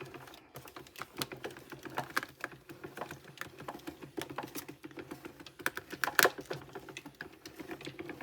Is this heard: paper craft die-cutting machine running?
yes